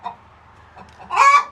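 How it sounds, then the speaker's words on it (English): An angry broody hen in a chicken coop gives a short, low grumbling cluck, then ends with a sharper, louder squawk, close by. "She's broody, and she's mad that Ollie was trying to get into her box"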